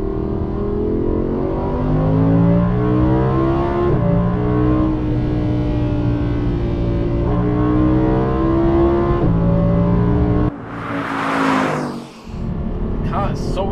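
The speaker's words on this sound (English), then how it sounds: "The car is so easy to drive fast." A 2016 Audi R8 V10 Plus driven hard on a road in Portugal, its engine holding a loud, steady, harmonic-rich drone through a long pull, then a sharp burst of a rev or shift before the roar returns.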